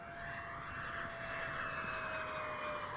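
An Xfly J65 twin electric ducted fan model jet makes a high-speed pass, a steady whining whoosh with a clear tone that drifts slowly lower in pitch as it goes by, heard alone at a moderate distance.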